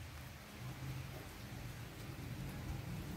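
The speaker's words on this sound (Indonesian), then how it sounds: "Hujan." Steady rain falls on a rainy day, a dense, even hiss with a low rumble underneath, continuous and unbroken, with no voices over it.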